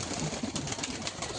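A flock of hobby pigeons in Kolkata landing at night coo amid a busy rustle of wings and movement, the soft calls blending into a close, steady murmur.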